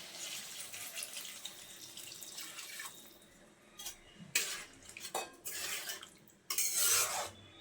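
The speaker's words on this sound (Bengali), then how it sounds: "আর এখন আমি আলুটা যাতে ভালোভাবে সেদ্ধ হয়ে যায় তার জন্য 1 বাটি পানি দিয়ে দিচ্ছি" Water from a bowl is poured onto potatoes in a cooking pan for an egg and potato curry, a brief splashing rush followed by clinks and scrapes of utensils against the pan, no voices.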